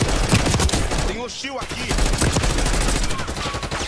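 Rapid automatic gunfire in the video game Call of Duty: Black Ops 6, dense loud bursts filling nearly the whole stretch with a short lull, while someone speaks briefly over the shooting.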